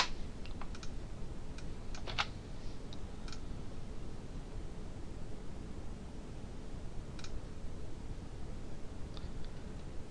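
Typing on a computer keyboard while editing a WordPress page, heard as faint, scattered key clicks over a steady background hiss, with no talking.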